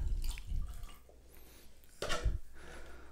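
Water poured into cups of roughly 10% sodium chloride and calcium chloride solution, heard as two short splashing pours with dripping and liquid sloshing, fairly quiet and close, no talking.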